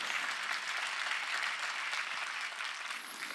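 A church congregation at a Sunday worship service breaks into dense, continuous applause, a soft, distant-sounding roar of many hands that fades slightly toward the end.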